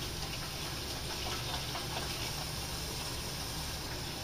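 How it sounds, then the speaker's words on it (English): Tap water runs steadily into a sink while hands are rinsed in a home kitchen, a continuous even rushing hiss up close with no talking. "let me rinse my hands quickly"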